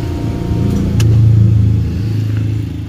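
A car engine idles and blips steadily with a mid-pitched hum, then the sound drops off as it is switched off, close and fairly loud with no talking.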